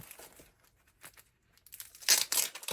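A sheet of stickers from Action is handled, giving soft, sporadic crinkles and peeling sounds close by, with a louder burst of tearing and rustling near the end.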